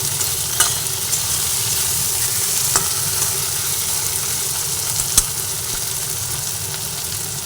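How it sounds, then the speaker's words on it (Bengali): Chopped tomatoes fry in a hot pan for dal fry, a steady loud sizzle throughout with a few sharp clicks of a spoon stirring against the pan, no talking. "কুচানো টমেটো দিয়ে দিচ্ছি সব একসঙ্গে ভালো করে ভেজে নিচ্ছি"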